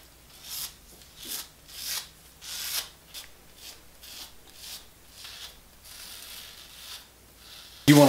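Razor strokes over a shaved head in the shower, a series of short scraping rasps about every half second to second, close and fairly loud, ending with a brief louder clatter.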